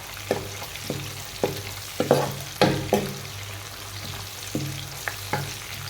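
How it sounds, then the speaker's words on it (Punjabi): Long-cut slices of ginger fry and sizzle in a pan while a utensil stirs and scrapes against it in a steady run of sharp taps over a constant hiss. "ਅਦਰਕ ਦਾ ਚੰਗੀ ਤਰ੍ਹਾਂ ਭੁੱਜ ਜੂ ਫਿਰ ਪਿਆਜ਼ ਪਾਵਾਂਗੇ"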